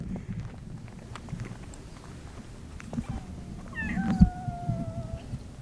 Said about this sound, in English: What about this cat? This cat knows everything.